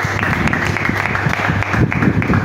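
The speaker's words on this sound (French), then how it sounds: "on se tient debout, on acclame pour le Seigneur" Church congregation standing to applaud and cheer for the Lord, with dense, close clapping that swells near the end and faint voices mixed in.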